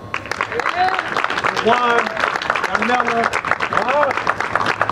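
Applause from an outdoor rally audience for a speaker, steady clapping and cheering beneath a loud voice speaking over it throughout.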